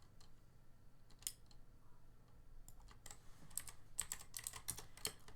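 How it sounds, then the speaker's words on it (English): A mechanical keyboard with blue switches clicks under quick typing, sharp ticking keystrokes in uneven bursts that thicken toward the end, close but fairly quiet over a low background hum. "Don't mind my loud keyboard."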